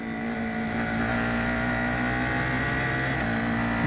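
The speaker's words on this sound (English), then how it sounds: "The exhaust note of this Storm V4 motor, the pushrod V4 that has been developed by Ligier" An F4 race car with a Ligier-developed pushrod Storm V4 motor roars at full throttle on a racetrack, a loud sustained buzzing exhaust note that climbs steadily in pitch as it accelerates, with no voices.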